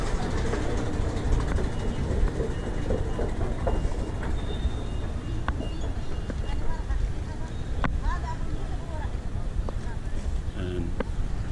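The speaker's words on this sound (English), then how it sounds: "This is Viktoria train station on the one line." A metro train at Viktoria station on Athens Line 1 rumbles steadily beneath crowd chatter and voices, with occasional metallic clanks and squeals rising through the constant station noise.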